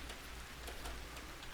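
Steady rain falls in the game Vintage Story, a faint, even patter of drops hissing continuously on the ground with no other sound over it.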